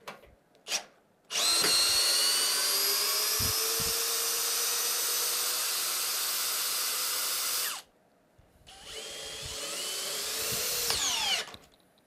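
A Bosch GSB 18V-65 cordless drill driver unscrews a fastener: a loud, close, high motor whine runs for about six seconds, stops, then a second rising burst follows, with small clicks and handling noises in between.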